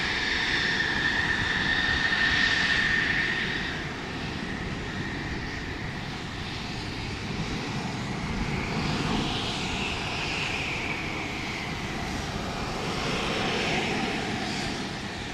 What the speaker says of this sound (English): that completes the display by the light combat helicopter